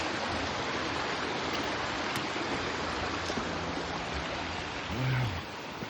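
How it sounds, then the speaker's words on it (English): A stream runs steadily, a dense broadband rush of water close by that stays even throughout, with a faint low hum briefly near the end. "Just the sound of the running water."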